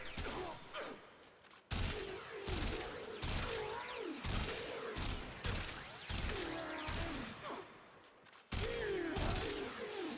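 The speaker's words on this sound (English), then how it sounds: "I'm trying to burst fire for ammo efficiency purposes." Rapid bursts of AX-52 gunfire in Warframe, several short fusillades separated by brief pauses, loud and close with faint mechanical clicks between bursts.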